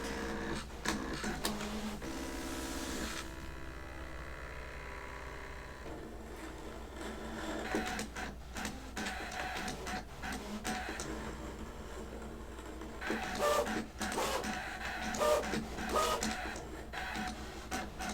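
A Brother ScanNCut cutting machine runs with its rotary blade, giving a steady mechanical whir with repeated motor pulses and clicks as the head moves back and forth, fairly close and without speech.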